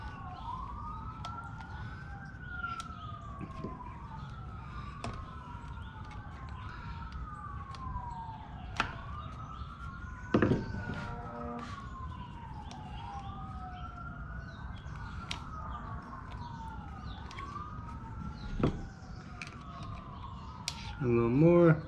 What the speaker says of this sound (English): You guys probably hear all the fire trucks